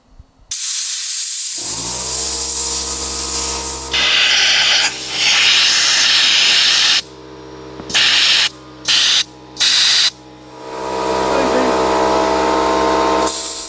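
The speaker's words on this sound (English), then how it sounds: "I'll get the compressor out. One little compressor" A small air compressor blasts air through a van's window vents in loud hissing bursts of varied length, with a motor hum between them and short stop-start spurts near the end.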